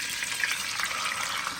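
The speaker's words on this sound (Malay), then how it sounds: "kemudian kita gorenglah ikan" Pomfret fish frying in hot oil, a dense continuous hiss and crackle close to the pan, steady and fairly loud throughout.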